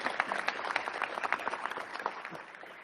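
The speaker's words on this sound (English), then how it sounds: "we need to give them a round of applause again." An audience applauds Metro employees at an agency address, a quiet and somewhat distant burst of scattered, fairly sparse clapping that stays steady for a few seconds.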